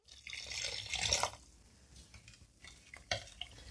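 Lukewarm water is poured into biscuit dough made with oil, powdered sugar and poppy seeds, followed by soft stirring and mixing in a bowl, faint and close with small splashes and scrapes.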